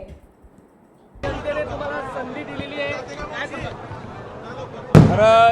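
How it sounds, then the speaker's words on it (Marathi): Crowd noise and chatter from an election victory celebration outside an office in Jalgaon fill the scene after a quiet start, then a loud sharp burst near the end as a firecracker goes off close by. "कार्यालयाबाहेर गुलालाची उधळण व फटाक्यांची आतिषबाजी केली जाते"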